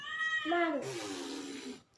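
A cat gives a single close, drawn-out meow that slides downward in pitch and fades into a breathy trail before cutting off.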